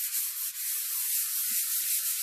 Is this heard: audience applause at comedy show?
no